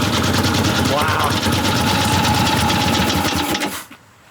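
A barn-find Harley-Davidson Sportster V-twin, unrun for about fifty years, runs loud and close with a rapid, rough mechanical chatter. It cuts off sharply near the end and leaves quiet.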